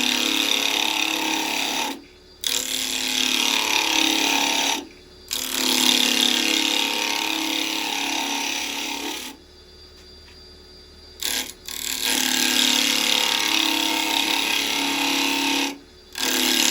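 Wood spinning on a lathe against a round carbide chisel while turning a three-cornered lidded box, a sustained scraping whir broken by several short pauses as the tool lifts off.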